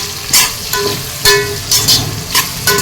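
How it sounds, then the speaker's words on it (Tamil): Thinly sliced onions fry in a pan while a spatula mixes them in about six loud scraping strokes over a steady sizzle, up close with no talk. "இப்போ வந்து நம்ம வந்து கலந்து வதக்கி விட்டுடலாம்"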